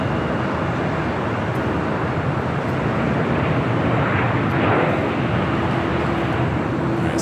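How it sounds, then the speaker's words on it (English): A British Airways Boeing 777-300ER jet at Los Angeles airport gives a loud, sustained broadband engine roar that holds steady throughout, with no voices over it. "Alright, Speedbird, the 777-300ER"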